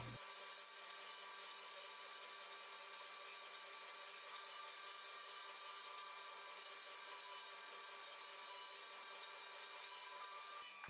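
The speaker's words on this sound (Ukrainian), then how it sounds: "За допомогою стрічки шліфувального верстату поправляю геометрію і зашліфовую пиляну поверхню." A bench belt sander grinds steadily against a sawn wood surface, a continuous, even abrasive whine that holds without pause throughout.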